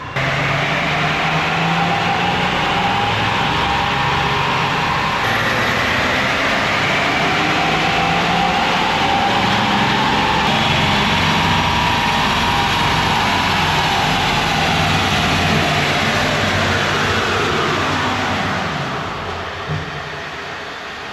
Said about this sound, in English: 2018 EcoDiesel on the dyno.